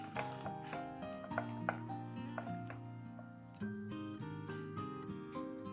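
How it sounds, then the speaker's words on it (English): Chopped ginger and garlic sauté in oil with black cardamom pods and cinnamon stick, a steady close sizzle with light stirring taps over a tonal background hum, no voices. "With this, I'm going to add chopped ginger garlic. Saute it for a few minutes."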